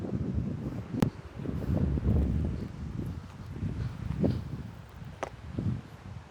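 Wind blowing across an open hillside of tea plantations, a steady rough rumble buffeting the microphone with a few sharp gusts and knocks.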